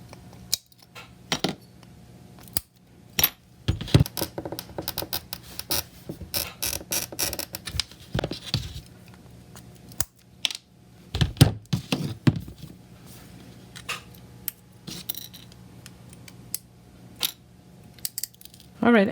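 Dichroic glass is cut into a leaf shape, heard as scattered sharp clicks, taps and brief scraping rasps at irregular intervals over a quiet background, fairly close.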